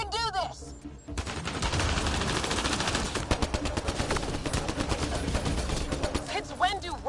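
Rapid video game gunfire, sustained bursts of automatic shots rattling loudly for several seconds, with brief voices or effects at the start and end.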